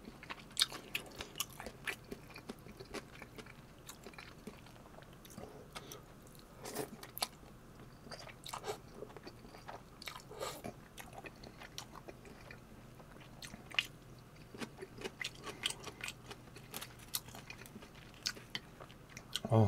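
Close, crisp chewing and biting of thin, flat pan-fried dumplings in a Korean home-cooked mukbang, soft crunches and wet squishes repeating irregularly throughout with no talking.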